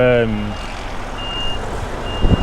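Truck reversing alarm beeping in a tonal burst at the start while backing into a corner loading spot at a Yorkshire load-in, then fading under engine rumble and cab noise, with a faint tone recurring later.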